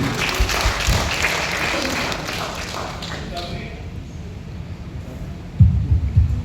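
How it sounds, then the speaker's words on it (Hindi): An audience claps loudly for a few seconds, then the applause thins and fades into scattered patters, with a couple of low thumps near the end. "चलिए एक बार जोरदार ताली"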